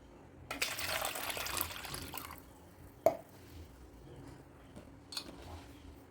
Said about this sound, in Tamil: அதனால் நான் 1 லிட்டர் தண்ணி சேர்த்துக்கிறேன்.